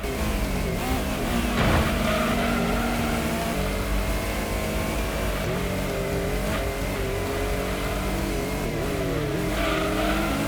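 A Pulsar race car in the Gran Turismo video game drives with a loud, continuous engine drone that rises and falls as it revs and brakes through corners, with no talking.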